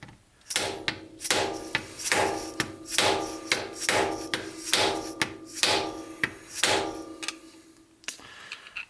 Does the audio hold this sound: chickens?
no